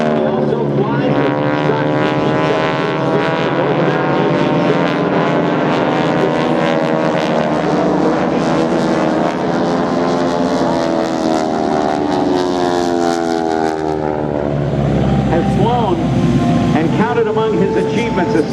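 AeroShell Aerobatic Team propeller airplanes flying in formation at the Paulding Airshow, a loud, steady engine drone with shifting pitch sweeping past overhead, while an announcer speaks over it.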